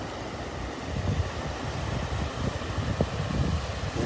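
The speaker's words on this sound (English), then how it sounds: "as those waves come in, they kind of turn things around and mix them up" Ocean waves rolling in on a Gulf beach at Delnor-Wiggins, a steady broad wash of surf with wind buffeting the microphone, moderately loud and unbroken.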